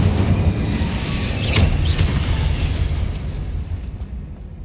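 Incendio fire spell bursting in the Hogwarts Legacy video game, a loud low rumbling blast with a sharp flare near the middle that rolls on and slowly fades.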